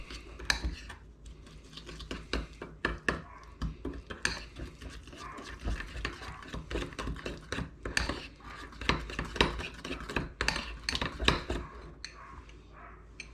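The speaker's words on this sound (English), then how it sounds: "Stir this up." A spoon stirs a lemon glaze for smoked trout in a small dish, sounding as irregular close clinks and scrapes with short taps scattered across the whole stretch, with no voices.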